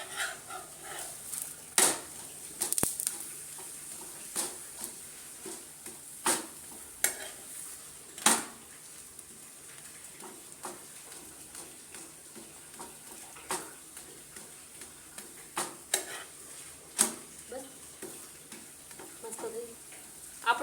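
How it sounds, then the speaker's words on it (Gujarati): A lachha paratha made from wheat flour fries in a pan, giving a soft, steady sizzle broken by brief clinks and scrapes at irregular intervals, with no talking. "આપણો પરોઠો એકદમ તળીને મસ્ત થઈ ગયો છે."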